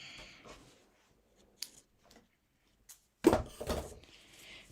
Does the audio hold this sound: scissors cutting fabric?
yes